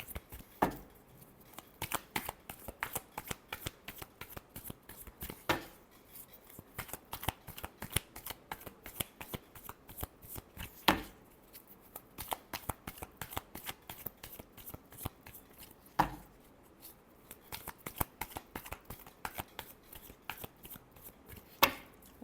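Tarot cards shuffled by hand in steady, rapid riffling bursts with sharp slaps between runs. The sound is close and crisp, repeating over and over with no talking.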